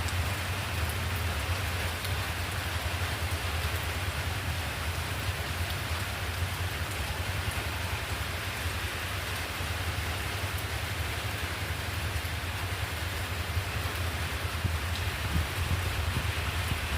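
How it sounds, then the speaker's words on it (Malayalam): Steady rain falls at a lakeside family temple, a constant close hiss of drops on surfaces that holds at the same level from start to finish, with no voices. "അവിടെ നല്ല മഴയായിരുന്നു"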